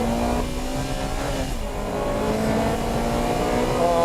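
Honda Integra Type R and Civic racing uphill together, engines revving hard and steady at close range, with a continuous loud drone throughout and no voices.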